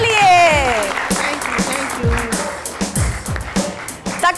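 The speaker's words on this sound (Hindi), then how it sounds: "बहुत सारी तालियों में" Studio audience applause on a Pakistani weekend TV talk show, a burst of clapping that swells and fades over a few seconds, mixed with a host's voice and lively background music.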